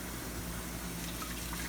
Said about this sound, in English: I'm going to use all that water I'm running to wash these dishes.